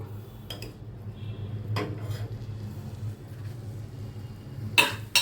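Cutlery scraping and clinking in a bowl as fish is mixed with ginger-garlic paste, crushed pepper-coriander powder and oil, with a few sharp taps against a steady low room hum and no talking.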